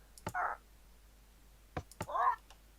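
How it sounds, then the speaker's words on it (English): Minecraft parrot ambient calls from the 1.12 snapshot, two short chirpy squawks separated by a pause, each preceded by sharp clicks, close and clear with no talking. "The first one is ambient. So that's just the kind of sound they make when they're hanging out in the area."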